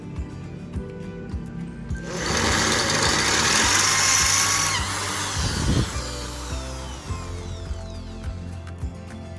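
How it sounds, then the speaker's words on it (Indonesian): A powerful Doliz BA670 impact drill with a large bit grinds steadily through material for several seconds, its loud whine rising then easing, with mechanical ratcheting clatter before and after. "ini saya timpa dengan mata bor yang lebih besar ya"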